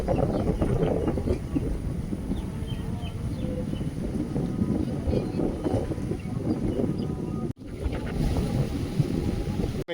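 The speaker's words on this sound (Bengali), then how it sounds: "আজকে হাওয়াটা খুব সুন্দর হচ্ছে।" Steady wind rushes and buffets the microphone outdoors, a continuous loud whoosh with a brief dropout near the end.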